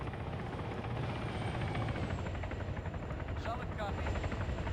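A helicopter in a military zombie campaign video game drones steadily throughout, its rotor and engine noise loud and continuous, with voices talking over it.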